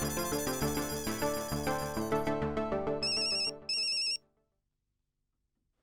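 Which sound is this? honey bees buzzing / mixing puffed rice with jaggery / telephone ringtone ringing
telephone ringtone ringing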